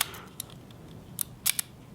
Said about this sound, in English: It's a nice little leaf shutter